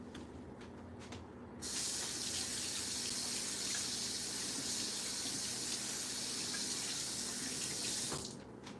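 Tap water gushes steadily into a kitchen sink as hands are washed during bagel preparation, a loud, continuous broadband spray that starts abruptly after a quiet moment and stops near the end, with no talking.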